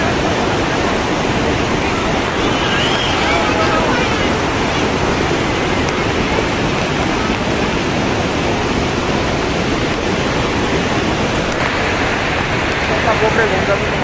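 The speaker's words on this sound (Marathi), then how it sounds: "पाण्याचा आवाज जरा खूपच येत आहे आणि पाणी पण जरा स्पीड आहे" Fast-flowing water rushes steadily at Lonavala, a dense, loud, unbroken roar of churning water close by with no pauses.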